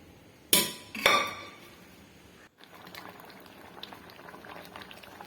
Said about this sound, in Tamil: குழம்பு கொதிக்க ஆரம்பிச்சிருச்சு